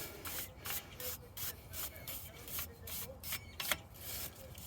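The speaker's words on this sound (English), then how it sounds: "So take a little wire brush" A small wire brush scrubs rust from a car wheel hub in quick, rhythmic back-and-forth strokes, a close, steady rasping scratch repeating roughly every half second.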